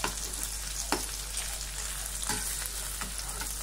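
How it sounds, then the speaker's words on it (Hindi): Surimi crab sticks fry gently in oil over low heat, a faint, steady sizzle broken by a few soft stirring scrapes. "अभी आप इसको जो धीमी आंच में फ्राई होने दीजिएगा, देखो अभी ये फ्राई हो रहा है"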